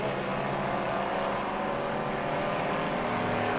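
Classic race cars at the 2012 Spokane Festival of Speed roaring past on track, a steady loud engine drone with layered tones from more than one car, no voices over it.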